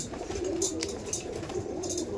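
Pigeons in a loft give soft repeated coos, low murmuring calls at moderate loudness, with a few short bright chirps or flutters scattered over them.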